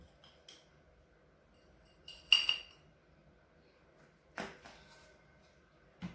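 Ground coffee spooned out for dalgona coffee, with a few light metallic clinks and scrapes of a spoon against a container, separated by quiet pauses.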